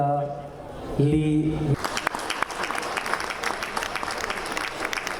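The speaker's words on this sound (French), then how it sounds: "Merci d'applaudir Amin Ait Hadi pour son ouvrage L'aube au-delà." Audience applause at the 2015 Algiers International Book Fair, breaking out after a brief tonal sound and continuing as scattered, fairly close clapping mixed with crowd noise and some talk.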